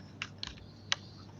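A few sharp, separate keypresses on a computer keyboard, quiet and close, spaced irregularly with no talk.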